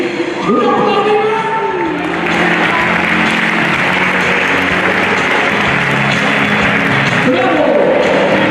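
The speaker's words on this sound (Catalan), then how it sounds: "Un aplaudiment!" Prolonged applause from an awards-night crowd for a youth football team that won its league, dense clapping and cheering lasting several seconds, opened and closed by someone speaking over a PA.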